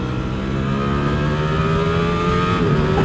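A custom Ducati Streetfighter motorcycle runs at full throttle, its engine note loud, close and steady, climbing slowly in pitch throughout.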